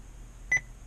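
A single short electronic beep from a Joying Android 7-inch double-DIN car radio installed in a truck, a brief clean tone rising out of a quiet background.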